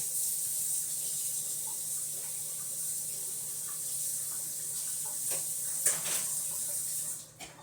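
Tap water runs steadily into a sink to wash glasses and other items, making a constant close hiss and splash with a few clinks near the end before the flow stops.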